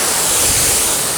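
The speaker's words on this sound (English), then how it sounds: "Let's rinse some water on it and see how the water behavior is." Water sprayed and rinsed over a truck's paint, a steady loud hiss of spray spattering on the body panels, continuous and close for the whole moment.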